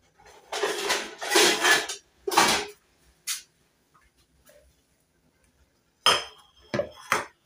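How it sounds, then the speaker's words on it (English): Dishes and a bowl clatter in a kitchen sink area, with several bursts of clinking crockery at the start, a short knock mid-way, then more clattering near the end. "Let me take a bowl."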